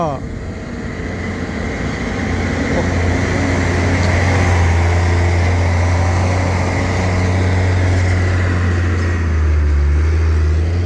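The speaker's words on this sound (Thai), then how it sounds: "สิบล้อก็มี" Ten-wheel trucks working at a pond-digging site near Ban Hua Fai, Khaen Dong, Buriram, Thailand, give a loud, steady, low diesel rumble that swells slightly and holds continuously, close by.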